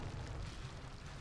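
Explosive charges blow up a bridge in Warcraft 3, a short, heavy, rumbling blast of low booming noise that fills the whole moment and stays loud throughout.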